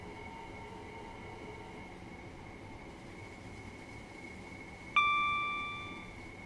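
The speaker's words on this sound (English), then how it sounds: "This is quite a quiet train though" A train runs quietly in Train Sim World 4 on the South Eastern High Speed line, with a steady low interior hum and a bright chime or ding near the end that rings and fades.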